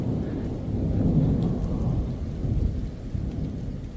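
A strong summer thunderstorm rumbles with deep, rolling thunder under a steady hiss of heavy rain, continuous and loud throughout.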